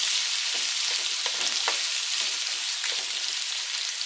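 Onions sizzle in a pan for a teriyaki Dungeness crab stir fry, a continuous close crackling hiss with small pops and occasional stirring scrapes.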